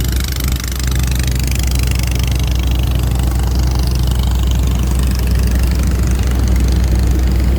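Engine of a small kolae fishing boat on the Gulf of Thailand coast, chugging steadily at idle with a deep, loud, continuous knocking drone close by, no voices.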